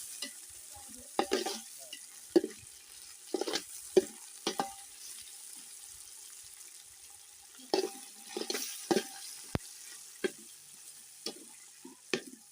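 Curry leaves crackle and sizzle in a hot pan while chicken biryani is being cooked, with sharp scattered pops and spurts of frying over a quiet hiss, no talking.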